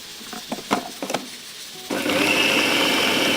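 An electric chopper blends a kebab mixture seasoned with kebab masala and salt: short choppy bursts and knocks at first, then a loud, steady, close whirring roar that runs on without pause; no one speaks.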